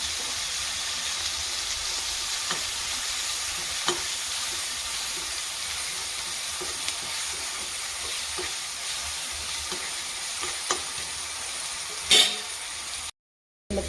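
Garlic and onion fry with chili powder in a pan, a continuous close sizzle broken by scattered scraping stirs and a sharper clatter near the end, with no voices.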